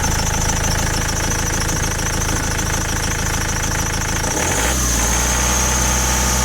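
Car engine revved hard at high revs during a water pump check on a car whose heater blows cold, with a rough, pulsing rumble, then dropping abruptly back toward a steadier idle near the end.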